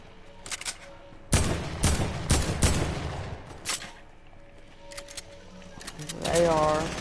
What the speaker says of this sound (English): They are using an AK.